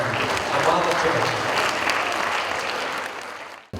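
Children clapping together in sustained applause at a large gathering, a dense continuous patter that holds steady for several seconds before cutting off abruptly.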